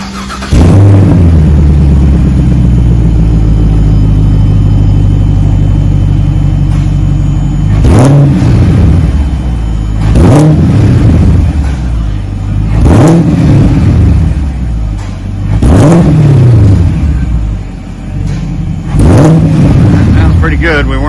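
A 2024 Chevy Camaro with Magnaflow mufflers and a factory X pipe starts up with a loud bark, then idles with a deep rumble broken by six or seven sharp revs that rise and fall, close by.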